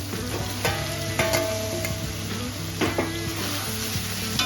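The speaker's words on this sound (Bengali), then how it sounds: "দিয়ে এটাকে 2-3 মিনিটের জন্য নাড়াচাড়া করে নেব।" Fried potatoes are stirred into an oily spiced masala in a pan, a loud continuous sizzle with frequent scraping and clinking strokes of a spoon against metal, close and steady throughout, with no talking.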